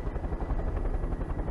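A helicopter's rotor in Far Cry 5 thumps in a fast, steady pulsing rumble, fairly muffled and low, lasting only a moment with no talking.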